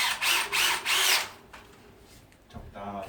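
A power drill bores a hole in a wooden powder-room partition wall for a wall light, three short loud whining bursts in quick succession, followed by quieter shuffling and a brief clatter.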